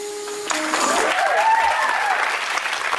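A studio audience on a British reality TV spin-off show breaks into loud, sustained applause with whoops and cheering that fill the whole stretch, starting abruptly after a brief moment of quieter room sound.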